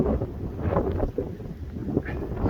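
Gusty wind buffets the microphone outdoors during a bird and landscape photography outing, a low rumbling roar that surges and dips with no talking.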